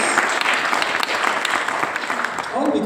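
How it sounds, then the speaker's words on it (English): Sustained audience applause for stage volunteers at a retreat talk, dense steady clapping filling the whole stretch from a room full of people, with faint voices underneath. "So give a round of applause to our brave volunteers."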